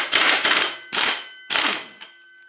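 Tools rattle and ratchet while a brake disc is removed from a car during a brake pad change, making four sharp close bursts of metallic clicking separated by brief pauses, with a faint click at the end.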